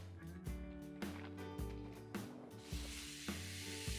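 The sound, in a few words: fajita meat sizzling on grill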